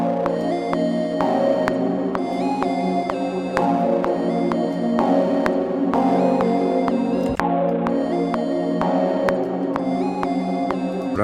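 A trap melody with its chords duplicated lower as a pad plays steadily, with bright plucked or bell-like notes repeating in a regular rhythm over sustained chord layers, and no talking.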